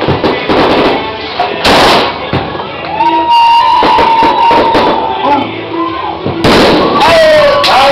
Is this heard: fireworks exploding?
yes